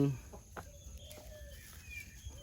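Giant Brazilian chickens cluck faintly while grazing on grass in the evening, short calls scattered over a constant background hum, with a few brief sharp knocks.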